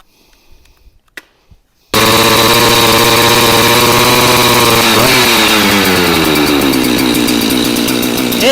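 Husqvarna 365 Special chainsaw in single-digit cold, starting suddenly after a quiet stretch of faint handling noises, then running loud and steady close by with a brief rev midway before settling back to a buzzing idle.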